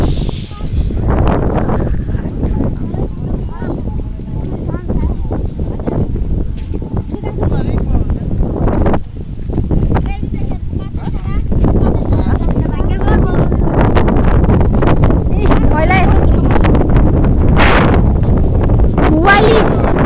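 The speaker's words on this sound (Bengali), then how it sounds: "প্রচুর পরিমাণ বাতাস।" Strong wind blows beside a river, roaring continuously across the microphone in heavy buffeting gusts that grow louder in the second half, with voices talking over it.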